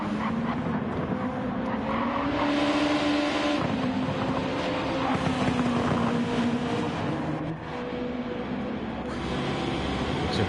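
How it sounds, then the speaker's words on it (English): Race car engines in Gran Turismo 7 at the Autopolis International Racing Circuit, a steady, loud engine drone with shifting pitch as cars run continuously, no talk over it. "be able to hear the engine of the cars"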